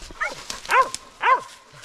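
Coon hunting dogs bark out in the Tennessee mountains, with about three sharp, yelping barks spaced apart over a quiet background. Nobody talks.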